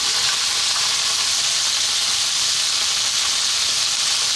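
Onion hitting a hot pot of Mexican-style beef stew, giving a loud, dense, continuous sizzle and hiss that holds steady without a break.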